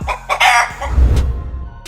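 A Silkie chicken clucks loudly and close by, a short run of throaty, rising clucks with no talking.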